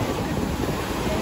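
Rough surf breaking on Cabbage Beach, Paradise Island, a dense, continuous roar of churning water mixed with wind buffeting the microphone, loud and close with no voices.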